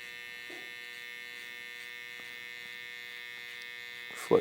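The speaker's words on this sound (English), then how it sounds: "take my trimmer, bounce my finger on his face," A barber's electric hair trimmer hums and buzzes steadily at close range while shaping a haircut, a thin constant drone with faint touches against the head, and a short louder bump at the end.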